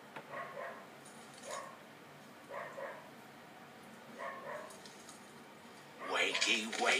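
A neighbour's dog barking in repeated single and double barks at regular intervals, faint and distant, ending in a louder flurry that comes with indoor video game sound.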